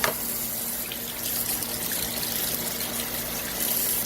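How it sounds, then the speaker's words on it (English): Tap water runs steadily into a sink while model car parts are rinsed off, a continuous close hiss and splash that swells slightly near the end. "Wash these off really good."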